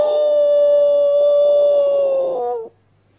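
A voice imitates a dog howling at night, giving one long, loud, sustained howl that holds a steady pitch, then dips and cuts off abruptly, leaving near silence.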